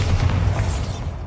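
A Bombarda spell explosion in Hogwarts Legacy, one loud deep boom with a rumbling low-end burst that decays over about a second.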